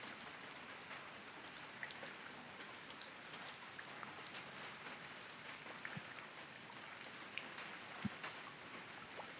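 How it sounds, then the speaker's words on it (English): Steady rain from the Higurashi visual novel game, a soft, even hiss of falling drops with scattered light patters, continuous and moderately quiet throughout with no talking. "The rain began to pick up."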